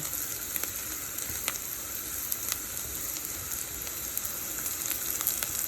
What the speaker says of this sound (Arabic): ثم يحمر البصل أخلي الكركم والكاري